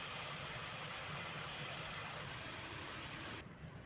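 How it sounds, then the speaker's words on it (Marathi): An electric mixer grinder blends coriander chutney, leaves and tender stems included, with a loud, steady whirring roar close by that cuts off abruptly just before the end. "आता मी चटणी वाटून घेते."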